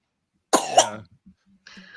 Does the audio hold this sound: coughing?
yes